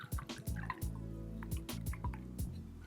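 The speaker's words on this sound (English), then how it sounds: "I want you to add 1 1/3 ounces of Bulleit Rye, okay?" Bulleit Rye whiskey is poured into a measuring jigger, a close series of small glugging drips and liquid plinks over a faint steady hum.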